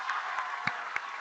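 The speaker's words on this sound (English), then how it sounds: "And the crowd goes wild." Crowd applause fills a short moment at the close of a men's college wrestling dual, a steady wash of clapping with a couple of sharper claps standing out near the end.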